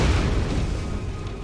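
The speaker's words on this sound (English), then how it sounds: "The rocket launcher didn't kill the guy in one shot." A rocket launcher explosion in Borderlands lands as a loud, deep boom at the outset, then rolls off into a low rumble.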